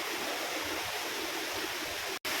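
Marilag Falls rushes in a steady, even hiss of falling water, a continuous broadband roar heard close with no other sounds.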